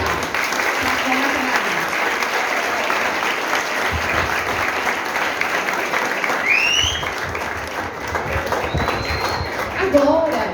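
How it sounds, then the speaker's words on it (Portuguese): Audience applause at a literary gathering in Goiás, honouring the poet Cora Coralina, a dense steady clapping that holds through the whole stretch, with a few whistles and cheers rising near the end. "uma salva de palmas bem especial para Cora"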